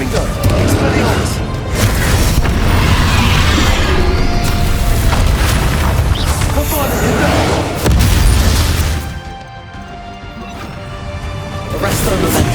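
The Confringo blasting spell in Hogwarts Legacy bursts in heavy, repeated booms over a dense, continuous din of magical combat, with voices mixed in throughout.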